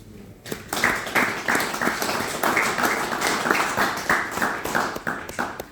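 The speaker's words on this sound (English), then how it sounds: "We're going to give an applause to ourselves" An audience at an evening event with Jose Blanco breaks into applause after a brief pause, many hands clapping in a fairly steady rhythmic pattern, moderately loud and close, with no talk over it.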